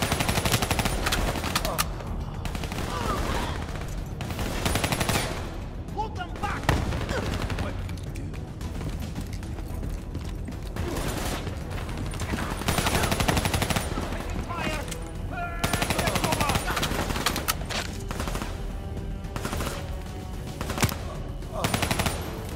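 Machine gun fire in Call of Duty 3, long loud bursts of rapid automatic shots with brief pauses, mixed with other battle noise and shouted voices.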